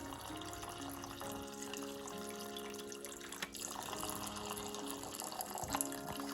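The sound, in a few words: draining pork roast juices through a strainer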